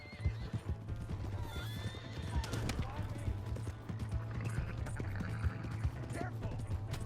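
A horse in the Red Dead Redemption 2 video game whinnies and its hooves clip-clop at a gallop, with game voices and outdoor ambience mixed underneath.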